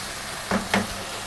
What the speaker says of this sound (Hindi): और अब ये साथ ही टिंडे डाल देंगे। टिंडे डालने के बाद मिक्स कर देंगे।